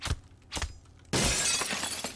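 Glass shattering when struck in a CS:GO escape map, a sudden loud crash with scattering shards after two dull impact thuds.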